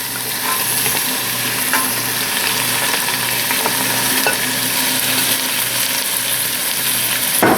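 Carrots, onions, celery and green beans sizzle steadily in a pot for a vegetarian stew, with a spoon scraping and stirring through the vegetables in a continuous, close frying hiss.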